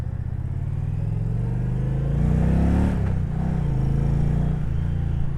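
Indian Challenger motorcycle on the road, a loud, steady low engine rumble with wind, swelling briefly as the rider rolls on the throttle and then settling back, with no talk over it.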